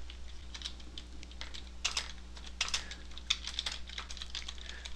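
Steady typing of code on a computer keyboard, a quiet stream of close key clicks with a few louder strokes over a low electrical hum.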